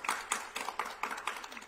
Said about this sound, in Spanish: Un aplauso, mi público hermoso. Muchísimas gracias. Que se escuchen las palmas.